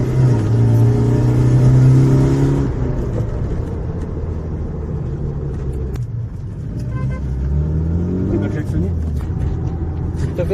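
A BMW E36 car driving, its low engine drone and road rumble steady throughout with some revving, under near-constant conversation between occupants.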